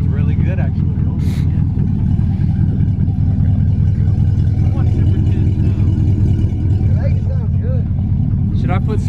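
Straight-piped lifted 2019 Ram 1500 pickup on 35-inch tires, its engine droning loud and close with a deep steady rumble and slight revs, while people talk over it.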